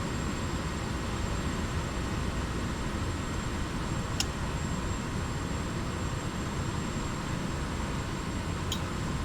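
A light aircraft on final approach with full flaps set, its engine a steady droning hum heard from inside the cabin, constant and moderately loud with faint brief clicks and no speech.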